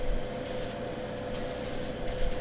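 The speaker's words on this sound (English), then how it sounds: "Spraying it down, getting that primer up." Airbrush hissing as it sprays primer onto a 3D-printed Firefly ship model, a steady airy rush over a constant mechanical hum, with louder bursts coming and going as the trigger is pressed.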